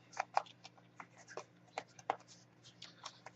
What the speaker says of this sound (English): going to shuffle these up